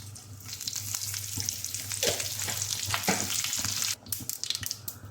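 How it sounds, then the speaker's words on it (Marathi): Mustard seeds, cumin and curry leaves crackle and sizzle loudly in hot oil, a dense spattering that drops briefly, then returns with sharp pops. "त्याच्यात आपल्याला राई, जिरं आणि कढीपत्त्याची फोडणी करून घ्यायची आहे"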